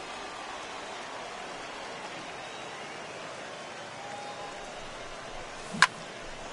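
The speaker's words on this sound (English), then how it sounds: "that rain is really coming down right now" Steady heavy rain pours over a ballpark in an MLB baseball game, a constant hiss without breaks, with one sharp brief knock near the end.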